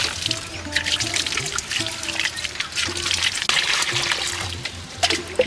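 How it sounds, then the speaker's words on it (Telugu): Water pours and trickles steadily onto golden bamboo cuttings in a holed plastic cover, with small splashes and drips, close by, with a faint tonal hum underneath. "నీళ్ళు మాత్రం ఫుల్గా పోయాలి"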